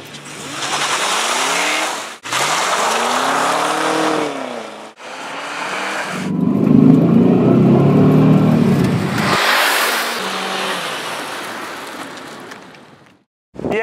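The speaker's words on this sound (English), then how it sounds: "To find out, I've decided to drag race it against my other car." A Cadillac CTS-V Wagon drag races another car: loud engines rev and accelerate hard, with rising gear-change sweeps, a deep roaring pull and tire noise, close and alone, then a sudden cutoff near the end.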